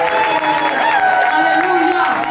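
A church congregation cheers and acclaims at a French-language worship service, a dense, loud crowd roar of voices and whoops sustained throughout, with singing or speech woven into the noise.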